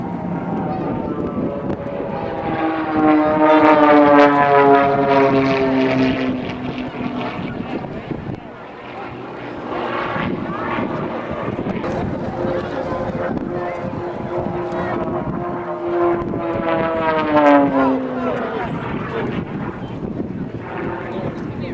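An aerobatic plane performs a double knife edge spin at the Andrews AFB air show, its engine droning with rising and falling pitch sweeps as it climbs and turns, under steady wind noise and crowd ambience.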